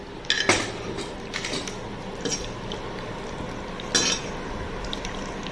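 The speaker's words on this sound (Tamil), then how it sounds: "இதை எல்லாத்தையும் நல்லா மிக்ஸ் பண்ணணும்" Half a lemon and other ingredients being stirred and mixed in a bowl, with scattered clinks and scrapes of a utensil, a couple of sharper knocks standing out against a steady low background hum.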